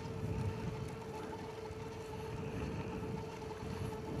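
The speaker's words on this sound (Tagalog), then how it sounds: "Lakas ng hangin guys." A steady, dense roar of wind rushes past the microphone, with a low droning hum running underneath throughout.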